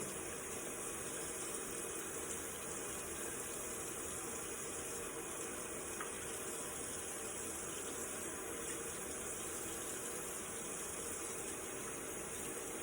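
Tap water runs steadily from a faucet during a foster kitten's bath, a continuous broadband rush that stays even and fairly loud from start to finish with no talking.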